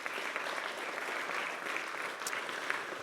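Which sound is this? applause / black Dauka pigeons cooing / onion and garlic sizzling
applause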